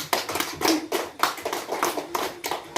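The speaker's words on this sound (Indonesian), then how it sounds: "Oke, tepuk tangan dulu." Hands clapping in a small group during a casual evening study session, with a handful of distinct, irregular claps close by over a few seconds and no speech.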